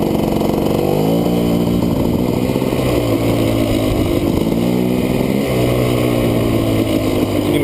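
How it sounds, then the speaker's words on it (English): A GasGas EC300 dirt bike idles near the mic at about 1200 RPM while still in gear with the clutch out, giving a steady, loud, slightly uneven two-stroke burble that dips briefly without any talking. "bike's still idling"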